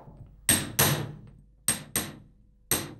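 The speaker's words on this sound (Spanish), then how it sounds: "Para ello la golpea con diferentes embutideras en el molde de embutir" Metal punches strike a silver filigree piece set in a dapping block, giving five sharp, ringing hammer blows in an irregular rhythm, close and loud, each decaying quickly with no talking.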